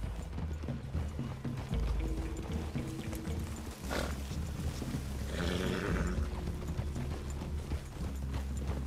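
Steady hoofbeats of horses clopping along in the video game Red Dead Redemption 2, with a low ambient drone and a brief rustling swell partway through; no talking.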